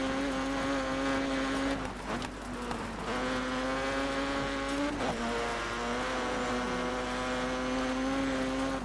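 Racing car in Dirt 3 screaming along a road at high speed, a loud sustained engine whine with steady harmonic pitch that dips briefly around a gear change and climbs again, continuous and close throughout.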